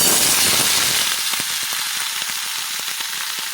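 Pumpkin pieces hit hot oil with bay leaf, dried chilli and five-spice, and a loud, bright sizzle starts at once, then settles into steady crackling with small pops.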